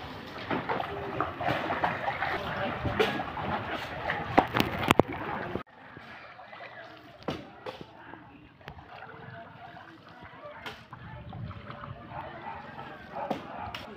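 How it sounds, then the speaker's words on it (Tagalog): Floodwater in a flooded street in Santa Cruz, Laguna, sloshing and splashing loudly at first, then turning to quieter, intermittent lapping and rushing with voices nearby. "Grabe ang tubig."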